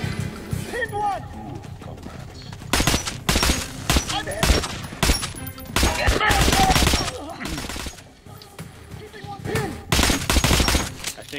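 Guns fire during a Metro: Last Light firefight in repeated sharp bursts and rapid volleys, with loud, close shots clustered over several seconds and voices talking between them.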